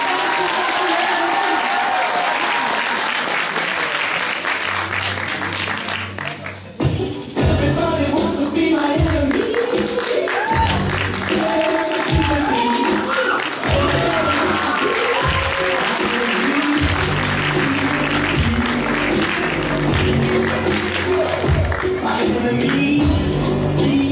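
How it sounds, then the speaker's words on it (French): Crowd applause for a contestant at the Nangis Geek Convention 2023 cosplay contest, loud, steady clapping for about seven seconds before pop music takes over. "je vais vous demander de faire un tour d'applaudissements"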